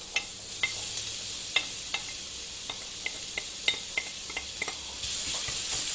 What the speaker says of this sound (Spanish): cuando el aceite ya esté un poquito caliente, añadiremos el ajo